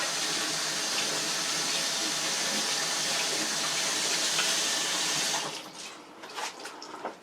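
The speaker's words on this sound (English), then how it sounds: "Okay, I rinsed my knife off." Kitchen tap running steadily as a knife is rinsed under it, a loud continuous gush of water that stops near the end, followed by a few faint drips and clinks.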